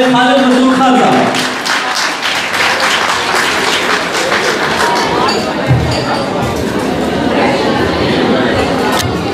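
Audience at a mushaira applauding a poet taking the stage, a dense, loud wash of clapping from a large crowd that holds steady throughout, with murmured voices mixed in.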